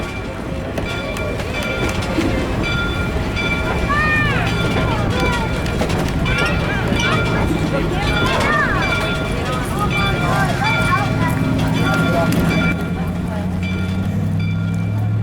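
The Durbin Rocket scenic railroad train rolls steadily along with a continuous low rumble and squealing wheel tones, while a voice talks over the running noise throughout.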